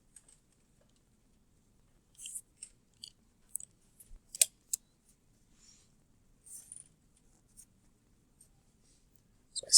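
A pen scratches out a matrix by hand, giving faint, close, intermittent writing strokes and small taps across an otherwise quiet stretch.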